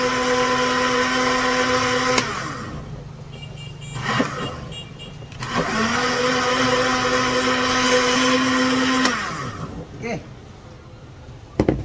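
A kitchen blender grinds breakfast ingredients with a loud, close whirring drone that starts and stops in several bursts. Each burst pitches up as the load thins, and a voice talks between runs.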